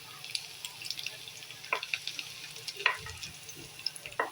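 Garlic and then a little ginger go into already-hot oil for a home-style paneer chilli, giving a steady soft sizzle with scattered crackles and a few spoon-stirring scrapes, close and fairly quiet, with no talking.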